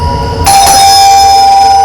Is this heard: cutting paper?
no